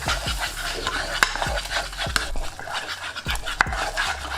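A utensil stirs a roux of salted butter and plain flour in a pan over low-medium heat, giving close, rhythmic scraping strokes with sharp clinks against the pan every half second or so.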